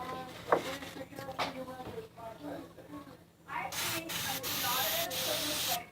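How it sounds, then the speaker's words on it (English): Bursts of aerosol cooking spray onto a pan hiss steadily near the mic for a few seconds, with a person speaking briefly just before. "We're spraying the pan."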